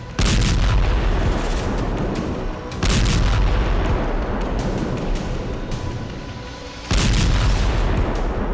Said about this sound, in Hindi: रूस ने लगातार दूसरे दिन युद्ध में फैब 3000 बम का इस्तेमाल किया है।